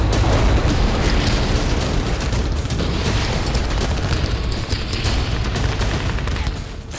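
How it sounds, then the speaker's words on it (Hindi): Heavy explosions flatten Hamas positions in northern Gaza during fighting with Israeli forces, a dense, unbroken roar of booms and rumbling blasts that stays loud throughout. "इजरायली सेना ने उत्तरी गाजा में हमास के ठिकानों को धमाके से समतल कर दिया है"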